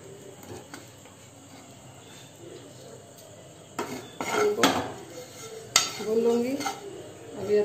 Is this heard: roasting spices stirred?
yes